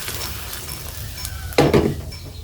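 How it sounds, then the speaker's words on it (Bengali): A sharp burst of sizzling as boiled milk is poured into hot ghee, rising suddenly after a quiet stretch of faint kitchen noise and then fading into a softer hiss. "এখানে আমি দুধ দিয়ে দিচ্ছি, জাল করা দুধ ঘিয়ের ভিতরে দিয়ে দিলাম।"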